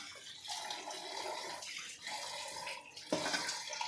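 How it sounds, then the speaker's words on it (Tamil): Dissolved tamarind water poured into a pot of sambar, a steady close splashing pour running through most of the moment with a brief louder surge near the end. "புளி கரைச்சி வச்சுருக்கேன், அதையும் ஊற்றிக்கலாம்"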